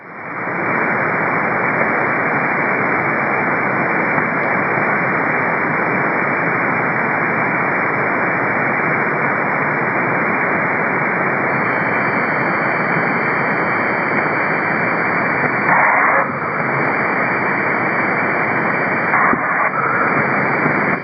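Weak ham radio signal received on an SDR, a steady wash of hiss and static running the whole time, with faint thin tones creeping in partway through and brief dips near the end; no voice comes through clearly.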